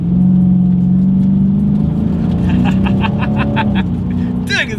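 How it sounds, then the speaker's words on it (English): 2020 Dodge Challenger R/T Scat Pack accelerating hard from inside the cabin with wheels spinning, loud continuous engine roar rising through the revs with a brief shift, while a driver talks. "let's go ahead and see how quickly we can get this new 2020 Challenger Scat Pack here up to speed"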